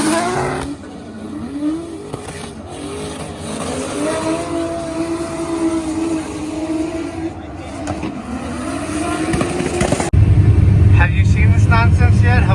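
A Formula Drift race car at a 2022 round in Orlando makes a drift run, its engine roaring and revving steadily at a distance, the sound getting louder and harsher toward the end, with voices talking over it.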